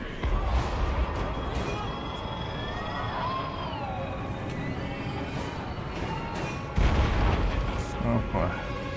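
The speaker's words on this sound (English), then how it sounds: "What is that freaking cannon?" Heavy booming cannon blasts in Total War: Warhammer 2, with a rumbling low-end thud, whistling shells and battle noise, one especially loud blast near the end.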